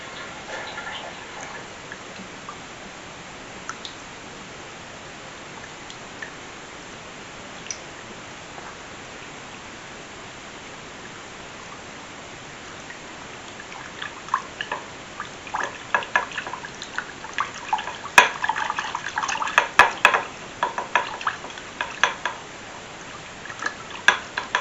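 Small whisk clicking and rattling against a bowl while mixing orange chicken wing sauce, starting quietly after a stretch of faint background and growing into busy, fast ticking strokes toward the end.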